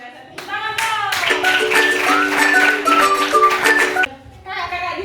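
Schoolchildren in an elementary classroom clap their hands in a rapid, sustained burst for several seconds, with children's voices shouting and chanting through it, and speech before and after.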